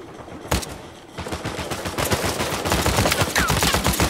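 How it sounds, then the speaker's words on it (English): Rapid blind-fire gunfire from the Uncharted 4 video game, a dense run of loud, sharp shots that rattle almost continuously after a brief pause near the start. "Oh my god, you can blind fire."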